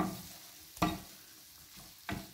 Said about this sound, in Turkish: Şöyle bir de maydanozuyla karıştıralım.